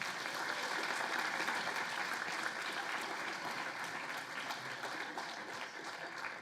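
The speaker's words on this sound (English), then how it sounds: "Please join me in a round of applause for all these great nominees." Steady, sustained applause from a large audience at a university engineering awards ceremony, dense clapping continuing throughout at an even level.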